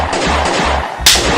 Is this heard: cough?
no